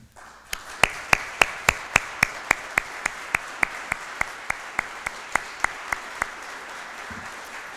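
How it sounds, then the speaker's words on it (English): Crowd at a fire department badging ceremony for a new fire chief clapping, heard as crisp, evenly spaced single claps in a steady slow rhythm over a faint background wash, fading off near the end. "please stand so we can give you a round of applause"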